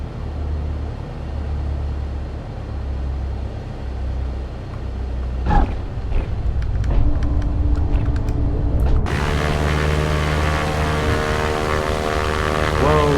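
A propeller plane in the X-Plane 11 flight simulator accelerates down the runway, its engine drone building with a few clicks partway through before a brighter, louder propeller roar takes over for the rest of the run.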